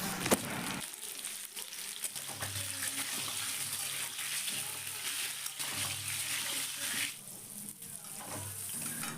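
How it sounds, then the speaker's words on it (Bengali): Pointed gourd (potol) pieces frying with a little salt in oil in a wok, a steady broadband sizzle running throughout with clattering stirs, fairly close and continuous. "এবারে আমি পটলগুলো দিয়ে পটলের মধ্যে সামান্য পরিমাণে লবণ দিয়ে পটলগুলো আগে খুব ভালো করে ভেজে নেবো"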